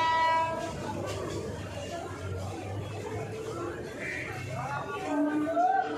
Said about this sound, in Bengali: দেখো আর একটা ট্রেন আসছে, কিন্তু আর একটা ট্রেন কিন্তু আসছে।